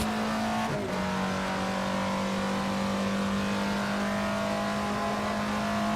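Alfa Romeo 33 Stradale's 50-year-old race-derived engine in the Assetto Corsa sim, holding a steady high-pitched drone with one sharp gearshift blip near the start, then climbing smoothly and loudly.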